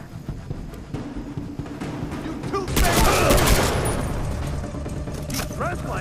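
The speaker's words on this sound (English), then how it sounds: "He's trying to shoot us!" Enemy gunfire in the Far Cry 3 video game, a dense burst of rapid shots about halfway through, loud and close over ongoing game sounds and a continuing rumble afterward.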